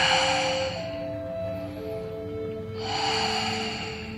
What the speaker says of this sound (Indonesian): Buang nafas.